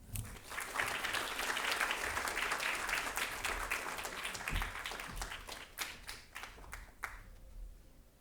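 An audience at an institute lecture applauds warmly to welcome the lecturer, dense clapping that swells quickly, holds for several seconds, then thins into scattered claps and fades.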